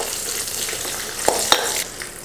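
Chana dal, peanuts and curry leaves sautéing in a pan, a soft steady sizzle with a couple of sharp stirring clicks.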